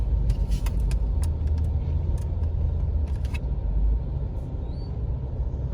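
Steady low rumble of road traffic heard from inside a car in heavy, slow-moving congestion in the Philippines, with faint passing vehicle noises and an occasional brief squeal.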